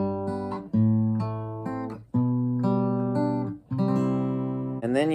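On acoustic guitar, the Classical Gas intro climbs through a run of ringing chords, each one struck in turn and left to sustain. Played up close and fairly quiet, with nobody talking.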